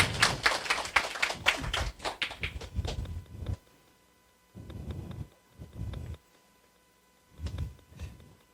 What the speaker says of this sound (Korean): 여러분 박수 한 번만 부탁드릴게요